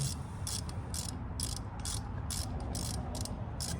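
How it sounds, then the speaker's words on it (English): A socket ratchet clicks in quick bursts while loosening a nut on a 1959 Chrysler Golden Lion 383 RB engine, the metallic pawl ticks repeating rhythmically over a steady low background hum, close by with no talk. "Socket's not going on the nut very good, but it's loose enough that it ain't gonna matter."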